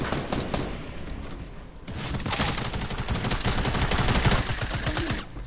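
Rapid automatic gunfire in a Fortnite-style shooter at Dusty Divot: sustained loud bursts of fire with a brief lull, then heavier continuous shooting that fades out at the end.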